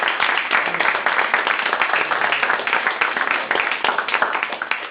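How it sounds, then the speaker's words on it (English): An audience claps for the speakers at the close of an anti-corruption compliance panel, a dense, even patter of many hands continuing throughout. "let's give our speakers a little round of applause"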